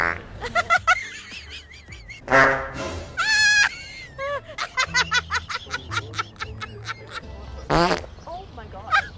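A prank fart sound effect blasts out on a city street, several squeaky, harmonic bursts with honking, goose-like tones, mixed with laughter and voices reacting nearby.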